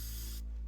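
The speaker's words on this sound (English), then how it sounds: "I can hear your spray paint from all the way up here" Spray paint can hissing in the video game Teardown, a steady close hiss that cuts off abruptly partway through, leaving a low hum.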